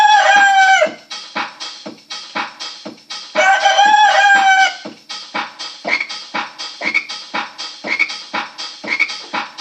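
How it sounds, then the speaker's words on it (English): Chickens clucking and a rooster crowing twice in long bursts, over a steady, rhythmic chorus of croaking frogs outdoors on a cold, icy night during a storm. "The chickens are hollering."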